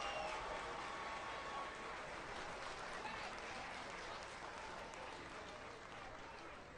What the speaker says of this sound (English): They are applauding, they are dancing, they are cheering